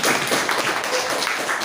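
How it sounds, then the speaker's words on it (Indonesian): A classroom of students claps for a presenting group, giving dense, steady applause of many hands that stays moderately loud through the whole moment. "Tepuk tangan untuk kelompok 2."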